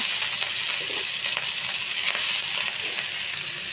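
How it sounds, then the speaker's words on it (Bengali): Hilsa fish fry in hot oil with onion and chili, a loud, steady crackling sizzle with popping spatters, heard close up with no talking. "দেখুন মাছ ভাজি হচ্ছে"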